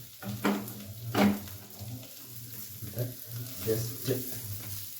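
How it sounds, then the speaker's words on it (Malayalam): A bread omelette fries in a pan while a spatula loosens its sides, giving a soft sizzle over a low hum, broken by a few scraping taps and clinks up close. "എന്നിട്ട് പതുക്കെ പതുക്കെ സൈഡ് ഒന്ന് ഇളക്കി കൊടുക്കുക"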